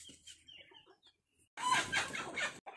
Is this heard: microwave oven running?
no